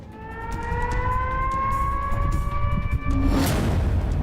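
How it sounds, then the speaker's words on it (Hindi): Air raid warning sirens sounding over a Russian city, a loud sustained wail with a slowly rising pitch, carrying across the open air with a low rumble underneath. "शहरों में बजे चेतावनी के सायरन।"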